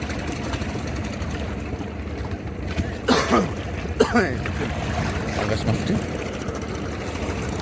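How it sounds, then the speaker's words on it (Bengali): Fishing trawlers arriving at a Padma river ghat with hilsa catch, a steady engine drone under the wash of water and wind, with a couple of louder passing surges and people talking nearby. "এই যে দেখেন এই যে ট্রলারগুলো এইভাবে আসতেছে"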